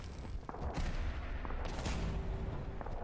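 Weapon fire in Fallout 4 rumbles as a series of heavy booming shots with distant, artillery-like rolls, loud and repeated across the clip over game ambience.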